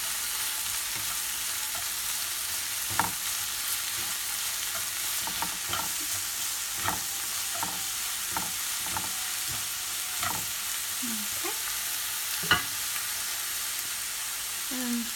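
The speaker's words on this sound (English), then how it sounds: "So that's my drained mushrooms, and I will add this into my frying pan." Drained mushrooms frying in a hot frying pan, a steady close sizzle broken by repeated scraping and clicking strokes as they are stirred.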